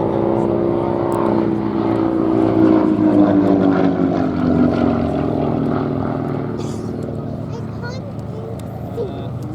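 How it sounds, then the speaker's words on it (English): An advanced trainer aeroplane flies at a military airshow, a steady propeller-engine drone that swells slightly and then fades into the distance, with someone talking over it throughout. "In truth, this aeroplane really was a perfectly good advanced trainer in and of itself, far from typical of a trainer."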